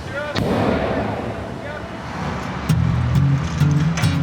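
A pile driver hammers a pile into the bay beneath the Oakland Bay Bridge: one sharp blow rings out over a steady roar of heavy machinery and surf, then a low droning engine hum rises with further thuds near the end.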